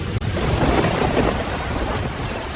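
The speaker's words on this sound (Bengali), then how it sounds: "এখনও গুড়ি গুড়ি বৃষ্টি পড়ছে।" Steady rain falls heavily with a deep, rumbling roll of thunder across the whole stretch, loud and close, with no voices.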